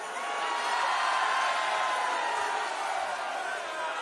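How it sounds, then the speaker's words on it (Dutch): A live concert audience at a Heerlen show cheers and applauds, a dense, steady wash of clapping with whoops that swells early and holds at a fairly even, moderate level throughout. "hartelijk applaus"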